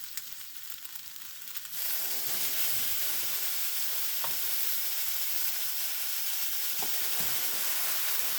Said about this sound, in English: I'm getting ready to put my chicken in here.